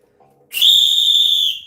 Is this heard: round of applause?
no